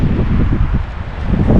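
Strong wind roars and buffets across the microphone on a mountaintop by a lake, a continuous rough rumble with gusty surges and no voices.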